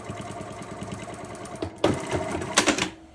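A sewing machine stitches around a shirt neckline, its fast steady needle rattle running close and continuous, with a brief pause and a couple of louder clunks near the end.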